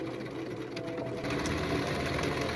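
A sewing machine stitching a 1990s-style tank top, running steadily with a continuous rapid mechanical whir close to the microphone for a couple of seconds, with no talking.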